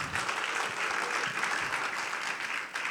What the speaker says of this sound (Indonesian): Tepuk tangannya lebih rame